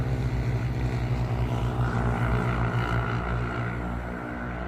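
An Untei EC200 2-in-1 toy drone flies outdoors in the cold, its propellers making a steady, fairly close buzzing whine with layered harmonic tones that eases slightly toward the end.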